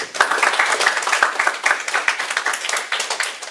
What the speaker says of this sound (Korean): 박수로 주님 앞에 환영합시다